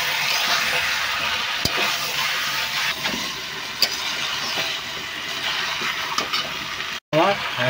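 Potatoes fry in oil in a pan as the base for a papaya chicken curry, making a continuous close hiss with occasional small pops and clicks. There is a brief dropout near the end.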